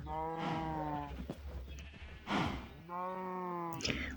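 Sheep bleat twice in Minecraft in long, wavering cries with a brief pause between, mixed with some background noise and faint clatter.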